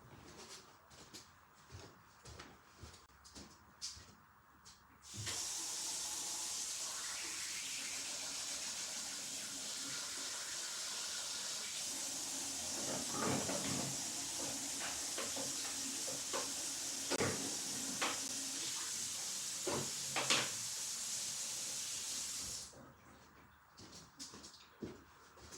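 An airbrush used for painting model tanks lets out a loud, steady hiss of air for about seventeen seconds while it is cleared out, starting and stopping abruptly with quieter handling noises on either side.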